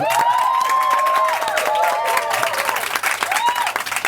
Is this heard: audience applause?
yes